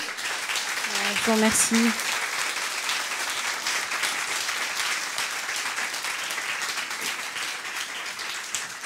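Audience applause for a speaker at a conference session of the KOP Meeting, a sustained, even wash of clapping from a sizeable crowd lasting throughout, with someone briefly speaking near the start over it.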